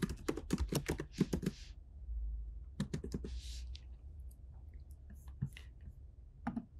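Fingers tap quickly on a computer keyboard in short bursts of crisp, close clicks separated by quiet pauses, with a few scattered keystrokes toward the end.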